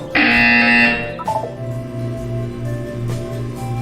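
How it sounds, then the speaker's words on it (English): A loud electronic buzzer in Portal 2 blares for about a second, followed by a quieter droning background tone. "When you hear the buzzer, look down at the floor."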